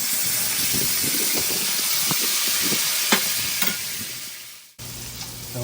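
Capers dropped into a hot cast iron pan at a camp cooking spot, loud dense sizzling and hissing that drops away suddenly near the end, then resumes more quietly.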